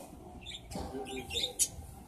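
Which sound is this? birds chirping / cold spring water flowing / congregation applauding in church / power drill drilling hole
birds chirping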